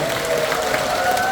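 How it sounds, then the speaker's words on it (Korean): An audience at a political party lecture event in a hall applauds in a brief, even burst of clapping with a steady tone underneath, no voices clear. "저희에게 큰 박수 한번"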